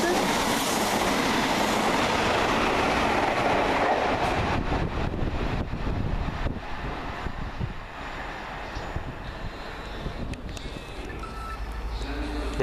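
A passenger train, the Atlantic Coast Express from London Paddington, roars past close by at Teignmouth, a loud rushing rumble with rattling wheels that gradually eases as it moves away.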